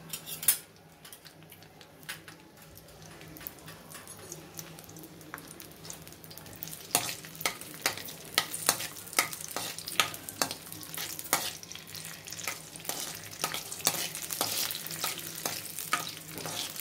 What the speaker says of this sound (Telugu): కొంచెం ఆయిల్ వేడి పడగానే ఈ చిన్నుల్లిపాయలు వేయించేసుకోవాలండి